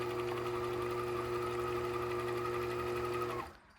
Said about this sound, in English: gently press the foot pedal, and it will wind the bobbin